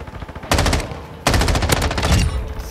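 An M13b assault rifle firing in a first-person shooter: two loud, close bursts of rapid automatic fire, a short one followed by a longer sustained spray after a brief pause, with no talk.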